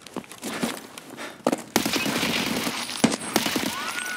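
Rapid bursts of automatic gunfire in the shooter game Escape From Tarkov, sharp repeated cracks with some footsteps, loud and close throughout.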